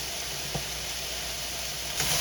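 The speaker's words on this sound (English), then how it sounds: "Now we're getting that sizzling we're looking for." Leftover stir fry sizzles in a hot pan, a soft, continuous frying hiss at low volume with a couple of faint stirring clicks and no talking.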